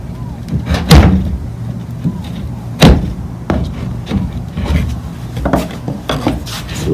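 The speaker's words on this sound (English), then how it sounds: "we'll just get a hammer and continue to pound this out there" Irregular hammer blows pound on wood, sharp thuds spaced a second or so apart over a low background rumble, knocking stapled parts off a scrapped TV.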